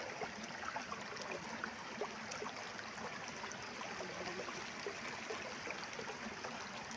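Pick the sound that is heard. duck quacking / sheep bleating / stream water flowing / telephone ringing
stream water flowing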